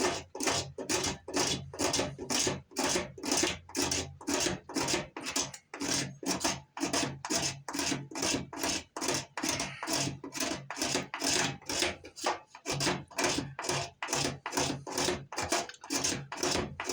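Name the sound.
scraping rich fat wood (fatwood) for a fire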